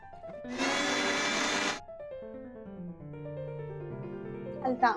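Mixer grinder blending green chutney with ice cubes whirs loudly in one short burst of a little over a second, then stops, followed by quieter tonal sounds and faint voice-like tones.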